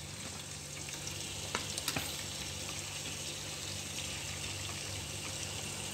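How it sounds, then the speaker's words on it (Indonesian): Shallots frying in oil inside a rice cooker used in place of a frying pan, a steady close sizzle with a few light clinks and stirring scrapes, no talk. "Nah, ini baru bawang merahnya yang masuk"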